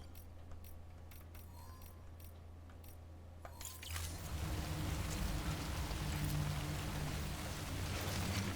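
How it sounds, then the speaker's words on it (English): Timefall storm rain in Death Stranding arrives after a few seconds of quiet ambience, then a dense, steady broadband rush of rainfall holds on, fairly faint overall with no talk. "This is apparently a storm, not just rainfall."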